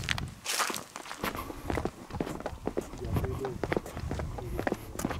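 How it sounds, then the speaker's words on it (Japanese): Footsteps crunch through a dark forest near Lake Haruna at night, a series of irregular soft steps close by, mixed with hushed talking voices. "今後ろからも足音したよね"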